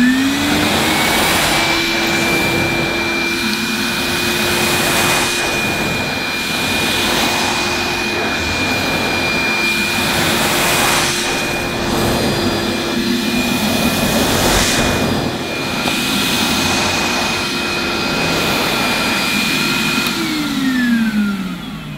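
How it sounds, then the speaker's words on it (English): A Numatic NBV240 cordless vacuum cleaner runs steadily on high mode, giving a loud, continuous whine and rushing airflow with a steady high tone. It holds evenly throughout with no talk. "this machine has got just a bit more suction power, especially on high mode"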